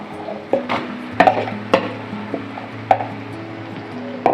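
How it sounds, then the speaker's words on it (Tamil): Marinated masala chicken goes into hot oil in a pan and is stirred, giving a few sharp spoon-on-pan knocks and scrapes over a low steady hum, close and fairly loud, with no talking. "இப்போ நம்ம மசாலாலாம் போட்டு மேரினேட் பண்ண இந்த சிக்கனை இந்த எண்ணெய் கலவையில் விட்டுக்கலாம்."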